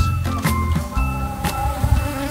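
Bees buzz steadily and close by at a campsite in Namibia, a continuous droning hum with brief louder passes as insects fly near.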